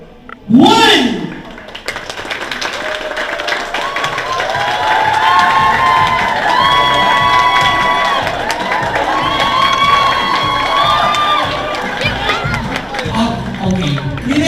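Wedding guests at a Philippine reception clap and cheer together after a countdown, a loud crowd roar with shouts and whistles sustained for several seconds, close and full, with voices calling out through it.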